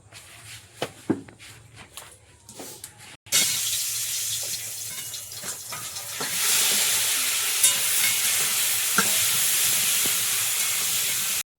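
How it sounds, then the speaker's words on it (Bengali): Onion and chilli hitting hot oil: quiet clinks and taps at first, then a loud, steady hiss of frying that grows stronger partway through and continues without talk. "পেঁয়াজ লঙ্কা তেলে দিয়ে চাপিয়ে দিলাম"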